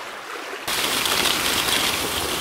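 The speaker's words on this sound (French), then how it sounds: "Et la mer. Et oui, c'est de l'eau salée." Salt seawater rushes and washes loudly nearby, starting abruptly after a quieter moment and continuing as a dense, steady wash with no talking.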